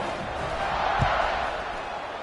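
A football stadium crowd in the video game College Football 26 roars as a steady, distant wash of cheering, with a single thud near the middle.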